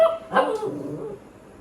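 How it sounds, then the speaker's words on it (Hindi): A dog barks once, fairly loud and close indoors, followed by a fading whine as the sound trails off. "भाई क्यों भौंक रहा है इतना?"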